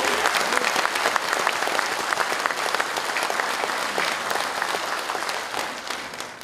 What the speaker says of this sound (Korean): 추모의 박수 한번 크게 보내주십시오.